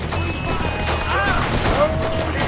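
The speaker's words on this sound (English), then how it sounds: "Shoot him! Keep shooting!" Rapid gunfire from the Red Dead Redemption 2 video game crackles in dense, overlapping bursts throughout, with excited shouting voices over the shots.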